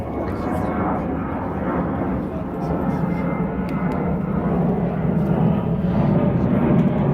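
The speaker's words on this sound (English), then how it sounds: "And the helicopters." A low, steady rumble of a helicopter engine droning continuously overhead, fairly loud and unbroken throughout.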